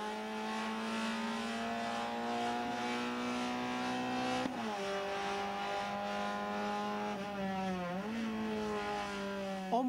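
Procar race cars at Zolder circuit howl past close by, their high engine whine climbing steadily and then dipping sharply twice as the drivers shift gears, loud and with no talk.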